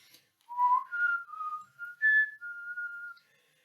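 A person whistles the X-Files theme tune alone, a slow, eerie run of sustained notes, clear and close with short breaks between phrases.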